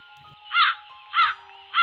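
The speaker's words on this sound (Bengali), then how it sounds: "ওই কাকটা কি বলছে?" A crow caws three times, loud and close, harsh calls spaced evenly over a faint background hum.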